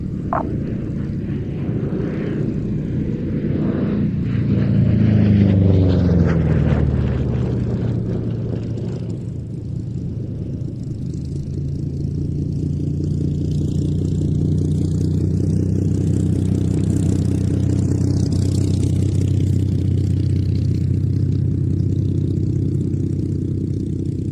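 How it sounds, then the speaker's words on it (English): A Supermarine Spitfire taxiing past the control tower at an airshow, its propeller engine giving a steady, loud, rumbling idle that swells briefly as it passes and then carries on throbbing with no one speaking. "the NHS Spitfire is taxiing back up past the tower now towards the Aircraft Restoration Company"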